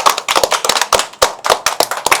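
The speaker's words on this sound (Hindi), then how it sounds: "अरे आप कितनी सुंदर तालियां बजाते हैं।" Children clapping in a drawing workshop, a quick rhythmic burst of sharp, close hand claps with uneven spacing, loud and without talk.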